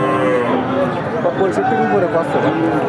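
A cow at a rural cattle market selling thin, bony cows and calves gives drawn-out, close moos. Loud talk overlaps the mooing throughout.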